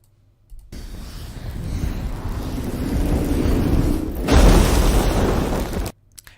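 A designed explosion sound effect rises from a swelling rumble into a loud, bright blast near the end, then cuts off abruptly; no voices.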